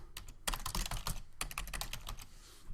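Keys clatter on a computer keyboard in quick irregular bursts with a short pause in the middle, close and fairly quiet.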